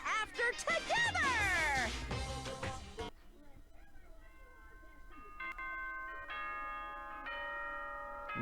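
Doorbell chime from the video game Danganronpa: a series of bright, bell-like ding-dong tones rings out clearly after a stretch of loud speech and game sound, the chimes sounding in separate strikes at moderate volume.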